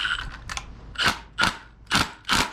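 Hub bolts on a minibike wheel being tightened, five sharp ratcheting bursts spaced about half a second apart, close and clear with no talking.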